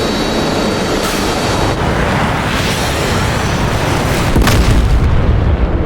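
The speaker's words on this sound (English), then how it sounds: "Someone's just dropped their bombs." Bombs go off in a WWII air combat video game, heavy booms rolling under a constant roar of aircraft engines, with a stronger blast swelling near the end.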